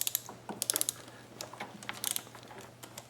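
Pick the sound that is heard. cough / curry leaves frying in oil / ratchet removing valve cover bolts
ratchet removing valve cover bolts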